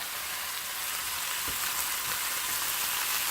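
A Cornish game hen browning in a hot, smoking cast iron pan, giving a steady loud sizzle and crackle of frying fat, close and continuous, with a soft knock or two and no voices.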